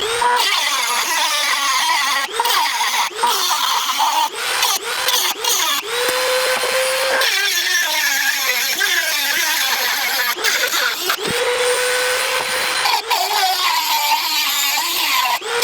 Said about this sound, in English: I'm going to start cutting out some steel.